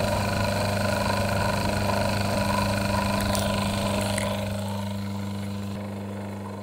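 An old Myford lathe's electric motor runs rough on a workbench, giving a loud, steady, close hum with a harsh buzzing edge that eases slightly toward the end.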